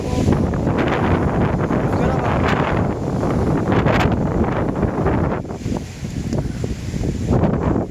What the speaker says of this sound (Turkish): Ama buz gibi rüzgar.